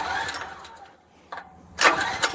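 A backup generator engine cranks in short bursts and then catches with a loud rising roar, close by, with no talking.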